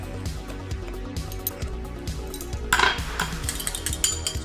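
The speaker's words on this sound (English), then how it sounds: "To that, we're gonna add 2 teaspoons of cornstarch and mix it together." Cornstarch being stirred into a few tablespoons of water in a small bowl for a pie crust, with a steady run of light clinking and scraping of utensil against dish, a brief louder flurry of taps partway through.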